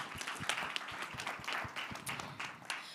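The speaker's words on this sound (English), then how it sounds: "So let's give them a round of applause." Scattered clapping from a small audience at a business panel event, distinct hand claps forming a light, uneven round of applause with no talking.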